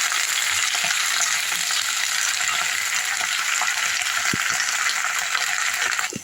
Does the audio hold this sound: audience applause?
no